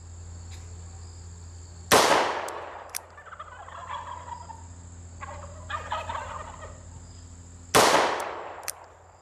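Two sharp, loud .357 Magnum shots from a Korth Mongoose 2.75-inch revolver fired single action, about six seconds apart, each with a ringing decay outdoors between them.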